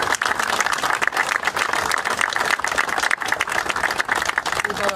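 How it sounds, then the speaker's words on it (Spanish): Lively, close applause from a community gathering in an outdoor plaza, steady rapid clapping from many hands with a few louder individual claps standing out. "Un fuerte aplauso."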